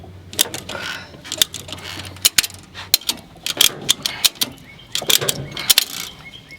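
Vehicle tie-down strap being tightened: a run of sharp metallic ratchet clicks and clacks in irregular bursts, close and fairly loud.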